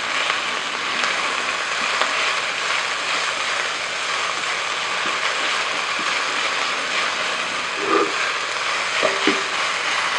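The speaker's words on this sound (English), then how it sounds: "this is one small red onion I diced. I'm just going to saute these little guys until they're soft." Small diced red onion sautéing in a pan, a steady close hiss and sizzle running evenly throughout, with a few faint clicks near the end.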